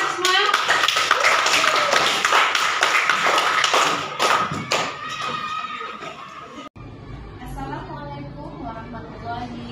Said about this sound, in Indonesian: Ayo berikan aplaus kita semua.